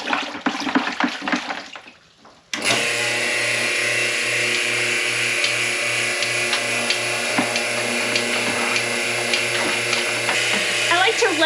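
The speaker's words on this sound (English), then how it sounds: "I like to let it run for just a few seconds, just to allow the vacuum to kind of pull some air through and help dry it out" A Capralite Herdsman milking machine runs after a rinse with water and vinegar, its vacuum pump humming steadily with a pulsing throb while air is drawn through the lines, following a brief clatter and a pause.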